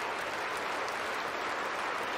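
An audience applauds a Putin address, a sustained, even wash of clapping from a large hall, steady in loudness throughout with no voices standing out.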